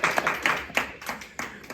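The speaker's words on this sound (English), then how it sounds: "I'll give a round of applause." A small audience at an entrepreneurs' sales and marketing talk gives a brief round of applause, a short patter of distinct individual claps up close.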